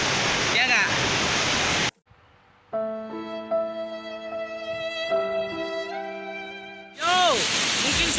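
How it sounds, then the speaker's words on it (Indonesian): Gangsa waterfall behind a cave in Kasui, Lampung, gives a loud, dense roaring rush at the start and end, with a long stretch of tonal music in between. "Tapi tepat di belakang gua inilah air terjun Gangsa di Kasui."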